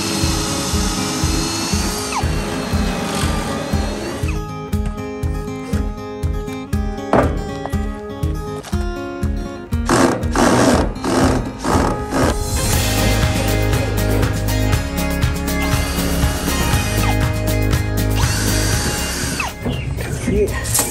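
A power drill with a pocket hole jig bores holes into the lip of a wooden raised garden bed, a loud, close, sustained whir that shifts pitch as the bit cuts, with brief changes in load.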